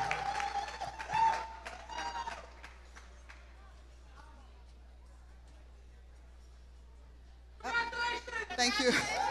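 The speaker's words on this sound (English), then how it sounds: "Another round of applause for Madam Chair," At a leadership gala in Washington DC, the crowd bursts into clapping and cheering for the new chair. It fades to quiet murmurs in the middle and then swells again near the end, with voices mixed in.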